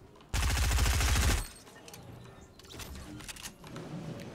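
Fortnite gunfire: a loud, rapid burst of automatic shots lasting about a second, followed by quieter scattered game sounds and clicks.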